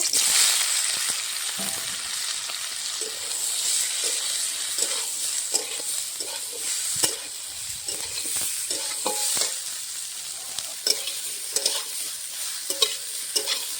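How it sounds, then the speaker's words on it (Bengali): Broccoli and broad beans fry in hot oil in a karai, a steady bright sizzle running throughout, broken by occasional scrapes and clinks of a spatula stirring the pan. "তেল গরম হয়ে গেছে ব্রকলি আর সিমটা ভেজে নেব"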